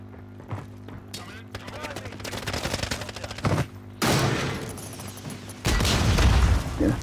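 Heavy gunfire and explosive blasts in a Call of Duty squad firefight in an ammo room, including rocket launcher fire, with loud bursts and a deep boom near the middle and end, dense and close.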